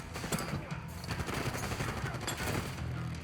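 Heavy machine gun fire in a Black Ops 6 cutscene, rapid bursts and sharp cracks layered into a loud, sustained fusillade from beginning to end.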